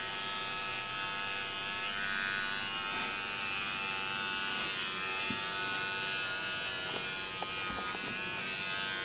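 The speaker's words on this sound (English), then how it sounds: "you trim the hair off the neck" Electric hair clippers trim hair along the nape of a neck during a haircut, a steady close buzzing drone that runs throughout with slight changes in pitch as the blades move over the skin.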